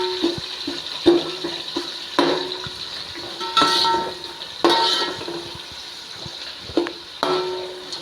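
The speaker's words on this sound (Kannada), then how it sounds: "ಈರುಳ್ಳಿ ಮೇಲೆ ಚೆನ್ನಾಗಿ ಎಣ್ಣೆಲೆ ಬಾಡಿಸ್ಕೊಬೇಕು" Onions sautéing in oil with pulao spices and a bay leaf, a steady low sizzle broken by repeated loud metallic scrapes and clanks of a spoon against the pan, roughly one each second, close by.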